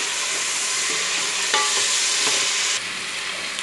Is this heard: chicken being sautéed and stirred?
yes